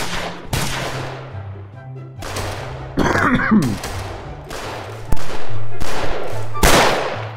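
Rapid gunfire from a Roblox hood-style shooter game, a series of sharp loud shots in bursts over a low repeating background beat, with a clattering burst in the middle.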